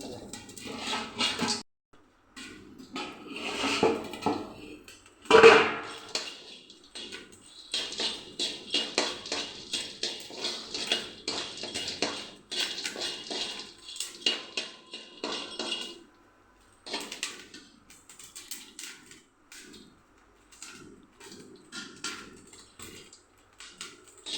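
Popcorn popping in a covered pan in a home kitchen late at night: a dense, irregular run of sharp pops and tinny clinks against the lid, with one loud burst early on and a short lull before the popping resumes.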